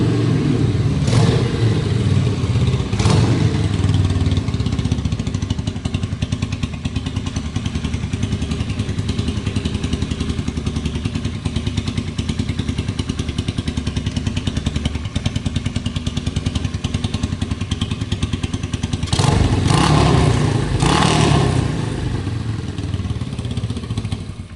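A close single-cylinder 1978 Yamaha SR500 motorcycle engine thumps steadily, with a few sharp throttle blips near the start and again toward the end.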